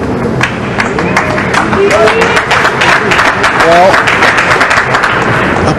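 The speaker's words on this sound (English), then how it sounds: "applause he gets for making the ball" Audience applause at the 2007 World 9-ball Pool Championship, Bustamante versus Van Den Berg, a steady dense patter of clapping from the arena crowd running throughout, heard under a commentator's voice.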